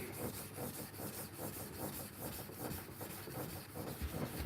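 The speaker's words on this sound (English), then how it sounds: "when I finish hand sanding this" Wooden handle being sanded by hand, a steady rhythmic rubbing scrape repeating several times a second, close and fairly quiet, with no voices.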